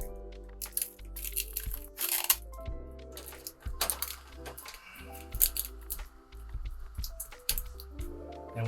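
Strips of tape are pulled off a roll and pressed down while a platform bed system is fitted inside a Sprinter van, giving a couple of short ripping bursts over steady background music.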